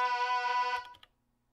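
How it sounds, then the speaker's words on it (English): A resampled Waldorf M vocal-style synth part with two voices an octave apart sustains a steady, rich harmonic tone that decays away after under a second, followed by a faint click and quiet tail. "It's from the Waldorf M, and it's just two voices about an octave apart."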